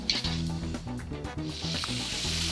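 Store-bought dumplings fry in a pan with a steady, close, loud sizzle and a hiss that continues throughout, with faint stirring knocks underneath and no talking.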